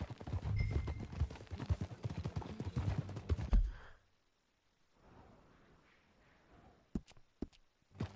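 A horse's hooves clop steadily on a ranch in a western setting, a close, busy run of hoofbeats for about four seconds, then near silence broken by a few sharp isolated knocks.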